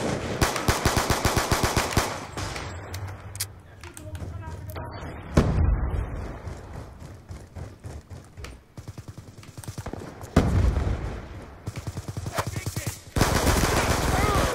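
Black Ops 2 video game gunfire, mostly Five-seveN pistol fire, with rapid bursts of shots, loud close volleys and gaps between them, while players talk in German over the action.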